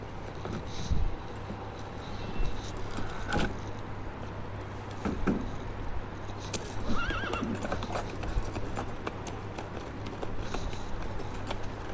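In Assassin's Creed Unity, horses neigh and whinny amid steady clip-clop of hooves, with a constant low hum and scattered ambient clatter throughout.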